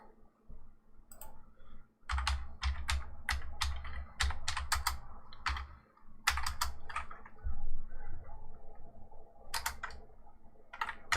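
Keys clatter on a computer keyboard in quick irregular bursts of typing, close and crisp, separated by brief pauses, over a low background hum.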